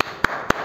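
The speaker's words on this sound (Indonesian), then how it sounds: "Sekali lagi, tepuk semangat." Two crisp claps land at an even beat during a spirited class clapping chant, sharp and close in a quiet room.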